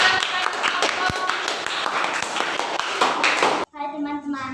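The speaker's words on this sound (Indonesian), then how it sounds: "Tepuk tangan untuk kelompok." Enthusiastic applause from a class for a student group, dense clapping with a few sharper claps, ending abruptly before a short burst of talk.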